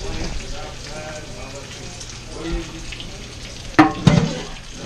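A handful of okra frying in hot oil gives a steady, soft hiss and crackle, then a louder spitting burst near the end, with faint voices in the background.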